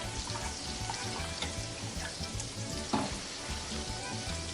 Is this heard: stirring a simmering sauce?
yes